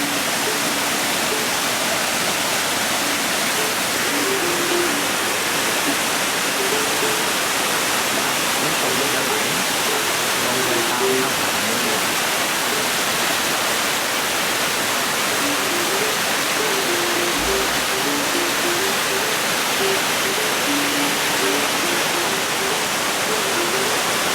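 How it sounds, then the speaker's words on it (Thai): Kwang Si waterfall in Laos, seen from its upper source, pours over the cliff edge with a steady, dense, loud roar of rushing water that stays constant throughout, with no voices. "แล้วน้ำตกก็จะไหลลงไปตรงหน้าผานี้"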